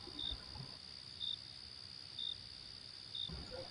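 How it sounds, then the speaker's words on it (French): Crickets chirp in four evenly spaced, short, high bursts over a faint, steady background hiss, sounding soft and somewhat distant with no voices. "Grillons en concert."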